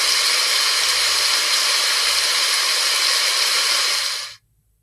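Waterfall played as a music-lesson sound example: a loud, steady, broad hissing rush of falling water that holds evenly for over four seconds, then stops abruptly into near silence.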